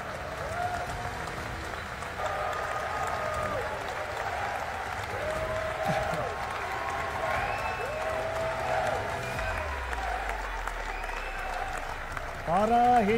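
Applause rolls through the hall during President Marcos's State of the Nation Address, a steady sustained clapping from a large audience that carries on for many seconds, with some murmuring voices and a brief low rumble near the end.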